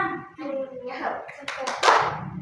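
Children in a classroom science lesson chant together, then clap in a few quick rhythmic bursts as part of a fish-themed hand-clapping game, with voices running over the claps.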